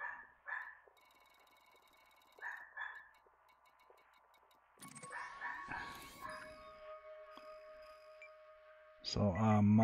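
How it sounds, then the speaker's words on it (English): A dog indoors barks at a passerby walking another dog on the street out front, sharp yips and barks in short bursts with pauses, growing louder and more agitated near the end. "So my dog has to express his displeasure over this infraction."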